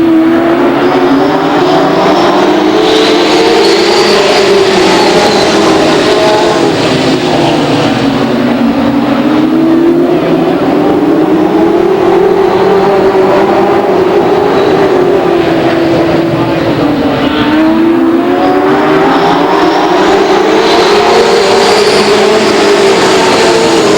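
Late model race cars on a short oval track restart a feature race, a continuous loud roar of several engines that rises and falls in rhythmic waves as the pack laps, with no talk over it.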